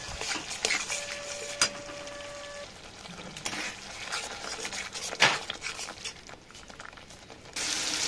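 Spice paste stir-fried in oil in a pan for poppy-seed paneer, a steady sizzle with scraping spatula strokes and occasional clinks against the metal, close and continuous throughout.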